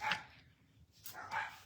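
Several dogs bark twice in short, moderately close bursts, heard in a home with no one talking over them.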